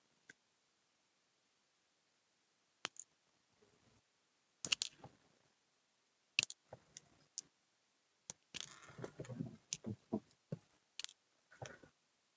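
Scissors snipping knotted bead dangles off one at a time, giving a string of sharp, quiet clicks and brief rustles with pauses between, close and alone with no voice.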